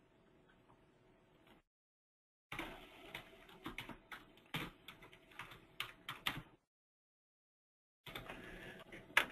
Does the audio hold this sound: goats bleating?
no